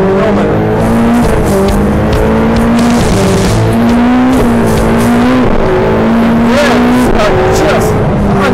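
Ferrari 488 Pista pulling hard under full throttle, its engine note climbing through repeated gear changes with brief dips between shifts, loud and close with an occupant talking excitedly over it.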